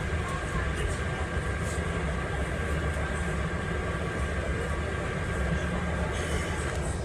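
A metro train rumbles steadily past, heard from the upper level of a double-decker, with a continuous loud roar and faint clanks and no clear gaps throughout.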